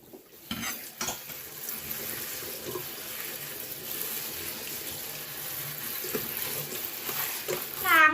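Tap water runs steadily into a sink as dandelion leaves and flowers are rinsed, with faint rustling and a few light knocks throughout, close and moderately quiet.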